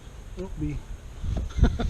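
Honey bees in a Flow Hive buzz in a low hum close by, with brief muffled voice-like sounds and handling bumps mixed in.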